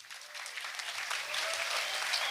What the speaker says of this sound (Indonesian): Tepuk tangan untuk SMK 3 dulu.